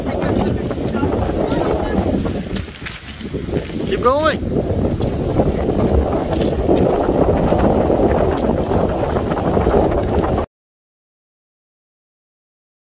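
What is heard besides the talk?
wind blowing at a Cape Cod beach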